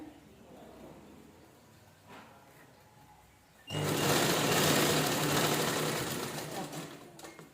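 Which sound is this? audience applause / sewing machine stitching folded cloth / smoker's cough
sewing machine stitching folded cloth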